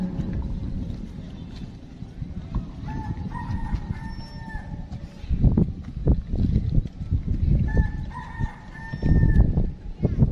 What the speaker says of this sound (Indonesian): Dan pada saat itu, ayam jago berkokok 3 kali.